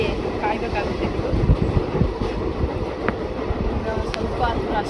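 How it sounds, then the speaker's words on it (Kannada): A passenger train travelling with a steady low rumble and rattle throughout, broadband noise with faint wind buffeting and brief clanks, fairly loud and continuous. "ಟ್ರೈನ್ ಟ್ರಾವೆಲಿಂಗ್ ಫ್ರೀ ಟಿಕೆಟ್ ಇಲ್ಲದೇ ಟ್ರಾವೆಲ್ ಮಾಡ್ತಾಯಿದ್ದೀವಿ."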